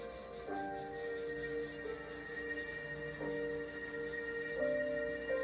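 Soft, steady rubbing rasps away close by as brass is scrubbed with lapping compound and a paper towel, a faint continuous scrubbing sound, alone without talk.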